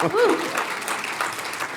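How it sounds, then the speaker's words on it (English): Applause from a conference audience at a civil rights plenary, a steady wash of clapping held at even loudness throughout, with a voice briefly speaking over the start. "Reclaiming some of my time for these applause."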